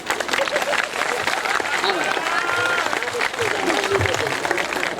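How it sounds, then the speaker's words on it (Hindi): An audience claps at an outdoor poetry gathering in Khariar Road, Odisha, sustained applause mixed with crowd murmur and voices throughout, fairly loud and continuous. "एक बार जोरदार तालियां भाई अनिल चौबे जी के लिए"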